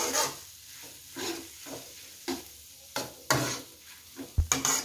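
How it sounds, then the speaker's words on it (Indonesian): Ground spice paste sautéing in a pan for stir-fried kwetiau, a steady sizzle broken by repeated scraping stirs and a few sharp clacks of utensil on pan near the end, close and fairly loud with no voices. "Untuk bumbu halusnya ini saya tumis sampai tercium aroma wangi dari"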